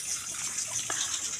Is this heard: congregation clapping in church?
no